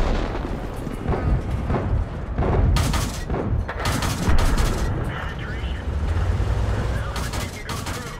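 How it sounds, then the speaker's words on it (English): Rapid bursts of heavy auto-cannon fire and booming blasts from a World of Tanks tank, repeated in clusters over a rumbling background. "It has sort of an auto cannon thing. So it fires kind of like automatic"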